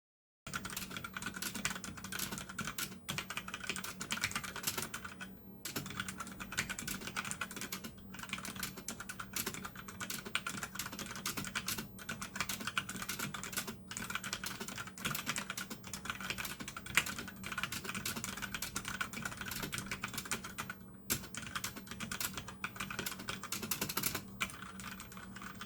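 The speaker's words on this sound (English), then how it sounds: "here's what the keyboard or switches sound like" Continuous typing on a mechanical keyboard fitted with blue clicky switches, a dense run of sharp clicks and clacks with brief pauses, close and steady throughout with no talking.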